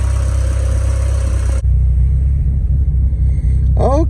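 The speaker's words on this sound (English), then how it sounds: "the gas light is on, but the engine's still running" Engine of a 2021 Starquest RV left idling, a steady low rumble throughout at close range with no voices.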